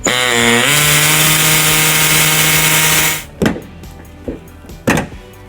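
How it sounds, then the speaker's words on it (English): Air saw cutting through a car's plastic rear bumper fascia, a loud, steady buzzing whine for about three seconds that stops abruptly, followed by a few sharp knocks and clatters close by. "We're gonna make our cut, and we're gonna use an air saw."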